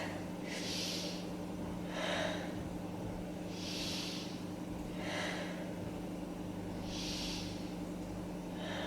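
Slow, deep breaths come from a person holding a beginner yoga stretch, each long inhale and exhale rising and fading in a steady rhythm against faint background hum, with no talking.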